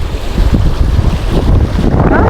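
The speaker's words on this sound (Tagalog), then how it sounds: "Kahit malakas talaga yung alon." Rough, continuous roar of wind and choppy water around a moving boat, loud and steady with buffeting gusts across the whole stretch.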